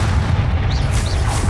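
Bombarda blasting spell going off in the video game Hogwarts Legacy: loud, low booming explosion rumble filling the whole moment, with no talk over it.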